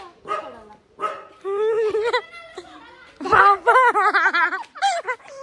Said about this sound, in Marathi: विनय कुत्र्याला सांगू नुसतं भुकत.